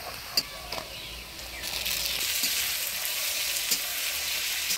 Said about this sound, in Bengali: পেঁয়াজটা লাল হয়ে আসছে, এবার টমেটো দিয়ে দেব